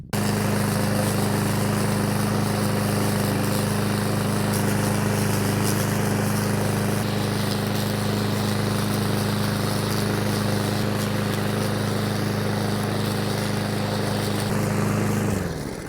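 A SENIX 144cc 21-inch gas lawn mower runs steadily at close range, a loud constant engine drone with a strong low hum that holds unchanged for the whole stretch before easing slightly at the very end.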